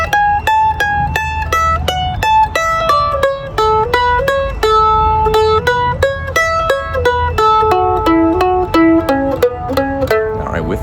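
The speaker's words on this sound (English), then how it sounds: "So the whole complicated intermediate level ending lick sounds like this." Intermediate-level ending lick on a stringed instrument, a fast run of crisp plucked single notes descending and weaving over about ten seconds, played close and loud with a faint low hum beneath.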